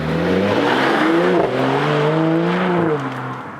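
A Mercedes-AMG E53 estate accelerates hard, its engine note climbing through rising gears in a strong, continuous roar heard from inside the car, then easing slightly toward the end.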